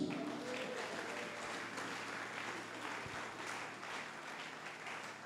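A church congregation applauds during a sermon, a dense, steady wash of clapping from many hands that fills the room at moderate distance and fades slightly toward the end.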